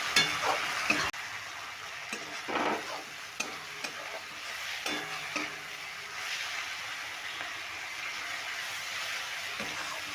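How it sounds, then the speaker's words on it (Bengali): Spices including Kashmiri chilli sizzle steadily in a hot pan for egg tadka, with a spoon scraping and stirring through them in repeated strokes, close and alone with no talking. "এবার এই মশলাগুলো দিয়ে আমি খুব ভালো করে কষিয়ে নেবো"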